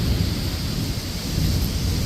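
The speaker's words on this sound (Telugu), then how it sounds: "నిన్నట్లాగే సేమ్ వర్షం అయితే విపరీతంగా పడుతుంది" Heavy rain pours down steadily with a deep, constant roar, loud and unbroken throughout, with no voices.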